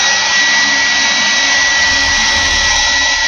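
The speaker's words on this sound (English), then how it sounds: "Brought my trusty hair dryer out." A hair dryer blows continuously at close range to speed paint curing on miniatures, a loud, even airy roar with a high whine and no pauses.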